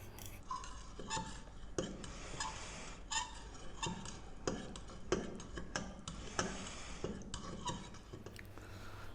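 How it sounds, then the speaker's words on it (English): Stirring awaze spice paste with red wine in a bowl, a steady run of light clinking and scraping ticks from the utensil, close and fairly quiet with no talk. "We're just going to mix this up and get it to a paste."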